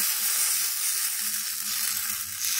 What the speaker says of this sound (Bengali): এখন পিঠেগুলো ছেড়ে দিচ্ছি।